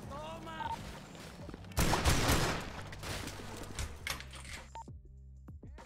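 Gunfire in GTA 5, with a dense burst of rapid shots rattling out in a cluster, then scattered sharper cracks trailing off, under a low background hum and brief voice sounds.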